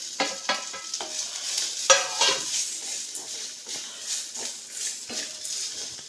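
Grated coconut frying in a pan with green chilli, garlic and tamarind, a soft continuous sizzle broken by scraping stirs and a few sharper clinks of the spoon against the pan, heard alone without voices.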